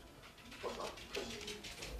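Puppies whimper in faint, thin cries, two short whines standing out over a steady low background hiss in a quiet indoor space.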